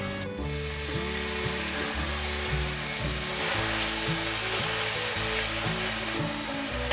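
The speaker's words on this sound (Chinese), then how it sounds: "接下来放芋头， 大略拌炒一下" Taro is stir-fried in a wok with a constant loud sizzle, and occasional stirring movements can be heard over a steady low hum.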